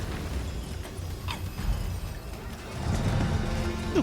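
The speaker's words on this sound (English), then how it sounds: "How about a nice explosion?" Magic explosions in the video game Dragon's Dogma II, with muffled booms and crackling bursts over a rumbling battle background that swells toward the end.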